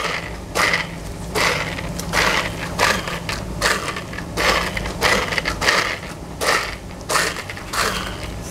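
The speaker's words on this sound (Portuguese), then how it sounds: "Agora eu vou ralar um pouco, moer um pouco o bacon, porque como é paté, eu não quero que fique aos pedacinhos." Bacon being ground for a chicken and bacon pâté, heard as repeated loud, close crushing bursts of the machine. The bursts pulse on and off in an uneven rhythm, with no talking.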